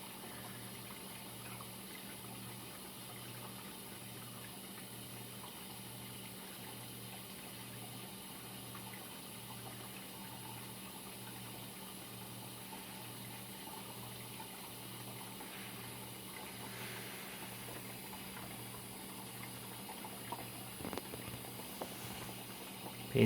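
Water steadily filling a Kenmore dishwasher, a continuous even rush with a faint low pulsing hum underneath, unchanging throughout with a few small clicks near the end.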